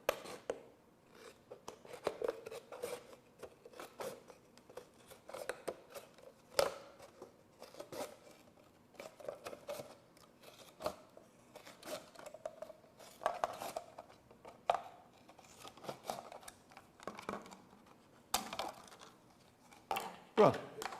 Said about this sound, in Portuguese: Tesoura, cortando no sentido anti-horário.